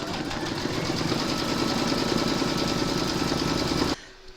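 An embroidery machine stitches patriotic in-the-hoop bunting fabric held in its hoop, humming with a fast, even mechanical chatter for about four seconds before stopping abruptly.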